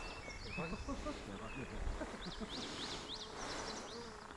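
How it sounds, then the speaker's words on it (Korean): Chirping birdsong trills repeatedly over steady outdoor ambience beside a reservoir while fishing, with bright calls around the middle and a low murmur beneath. "이 맹동지 하류권은 새소리가 완전 ASMR입니다"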